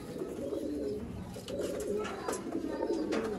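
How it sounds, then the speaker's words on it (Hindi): Ferozpuri pigeons coo in soft, repeated throaty rolls close by, several calls overlapping against a low background murmur, with a faint chirp and clicks here and there. "फिरोजपुरी कबूतर दोस्तों बड़ी डिमांड ही भरावां दी फिरोजपुरी दे दोस्तों।"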